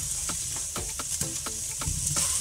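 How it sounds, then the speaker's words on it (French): Lardons sizzle in a hot pan for a pasta gratin, a steady frying hiss under repeated short scraping stirs, close and moderately loud with no talking. "Donc on rajoute les lardons"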